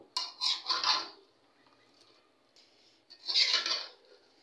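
Spoon scraping and clanking in a pot while mango pieces are stirred with sugar, two bursts of metallic stirring separated by a quiet pause, close and distinct with no talk.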